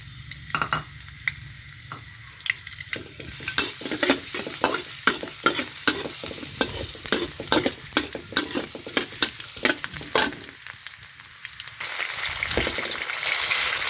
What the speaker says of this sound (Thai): ผัดกระเทียมให้หอมก่อน